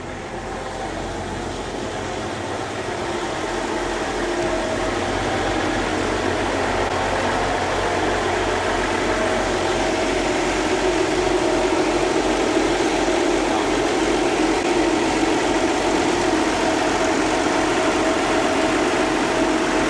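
Steady, low rumbling idle of Volvo engines on a 46-foot Bestway motor yacht in a marina slip, running continuously with a broad mechanical drone, loud and close, no talking.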